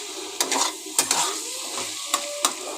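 Chichinga slices frying on a lowered flame, a steady close sizzle punctuated by several sharp spatula scrapes and clinks against the pan, with no talking.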